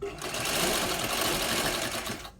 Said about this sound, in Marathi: मी तुम्हाला थोडासा शिलाई करून दाखवते